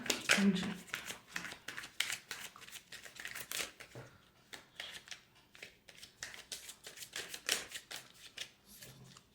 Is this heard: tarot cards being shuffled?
yes